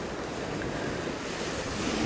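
Steady roar of sea surf with wind rushing across the microphone, a continuous wash of waves without distinct breaks.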